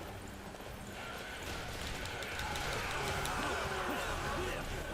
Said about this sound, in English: I am on a horse that's been through.